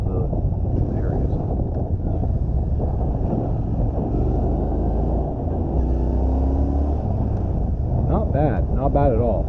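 A 2018 Triumph Street Scrambler motorcycle riding through a small town, with a steady engine drone and heavy wind rush over the microphone throughout, and rising revs near the end.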